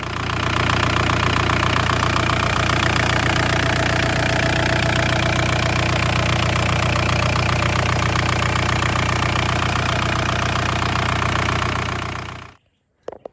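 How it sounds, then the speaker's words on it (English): A 1991 Toyota 4Runner fitted with a swapped-in VW 1.9 TDI diesel engine runs steadily with a loud, close, knocking diesel clatter and constant hum, then cuts off abruptly near the end. "we've got this Toyota VW diesel swap running"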